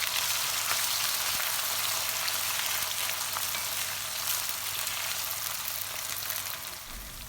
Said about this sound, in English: Then add the onions and fry until a light golden colour and soft.